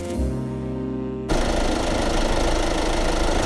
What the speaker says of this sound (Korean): 시동 한 번에 잘 걸렸어